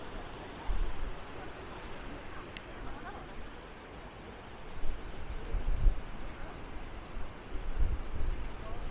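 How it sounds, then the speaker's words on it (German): Strong gusting wind on the beach at Maspalomas, Gran Canaria, during a sandstorm: a steady broadband roar with heavier low buffets around the middle and near the end, with no clear voices. "was für einen Wind wir hier haben"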